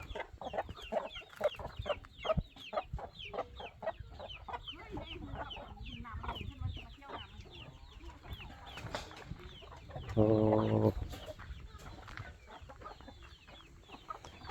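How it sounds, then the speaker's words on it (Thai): Chickens cluck repeatedly in a Tong Luang hill-tribe village in Laos, a steady run of close, moderately loud clucks with one louder crowing call near the end. "ไก่ก็มีแต่ไก่งามๆตัวงามเนาะ"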